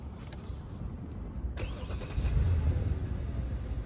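A 2017 Genesis G80 5.0 V8 engine cranks and fires up, settling into a low, rumbling idle with exhaust burble that grows slightly louder, close by.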